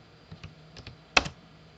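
Quiet, sparse keystrokes on a computer keyboard, a few soft taps followed by one sharper press, close and alone with no talking.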